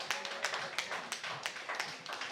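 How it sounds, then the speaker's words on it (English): A small audience at a talk on finding your voice claps for the speaker, producing a sparse, fairly faint series of distinct claps with an uneven rhythm. "come on, give Melvin a clap again."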